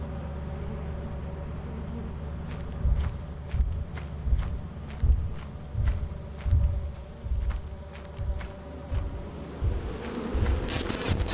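Video game bees buzz steadily around stolen beehives, a constant insect drone under a regular rhythm of running footsteps, fairly quiet and without talk.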